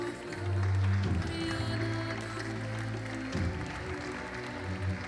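An audience applauds for climbing medalists at a youth bouldering championship final in a stadium, a steady wash of clapping under loud music with sustained low tones.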